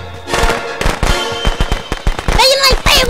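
Rapid crackling string of fireworks going off, sharp close pops in quick irregular succession, loud, with shouting voices mixed in near the end.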